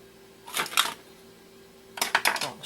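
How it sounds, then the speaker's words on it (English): Small screws are removed from a GameCube cable with a screwdriver, making two brief clusters of quiet clicking and scraping, close by against a faint steady hum. "Let's open it up, take out the two little screws here"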